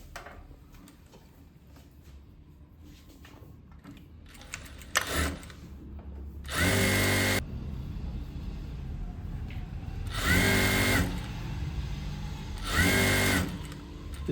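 A sewing machine stitching fabric in a tailoring class, three loud sustained bursts of running stitches separated by quieter handling and clicks, close and without talk.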